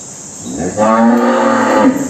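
A Sahiwal-Gir cross cow lets out a long, loud moo, rising in strength and holding for over a second, close by with faint background hum.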